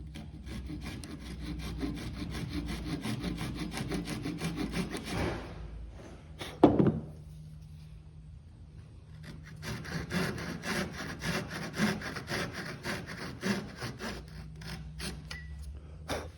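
Marine bronze boat tow rails being sawn and trimmed to fit: steady, close rasping saw strokes run for several seconds, stop briefly around a sharp metallic clank, then resume in a long even back-and-forth rhythm.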